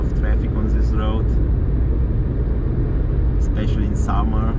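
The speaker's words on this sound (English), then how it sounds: "As you see, there is a lot of traffic on this road," Steady road traffic rumble on a busy main road toward Tegernsee in Germany, continuous low engine and tyre noise under someone talking throughout.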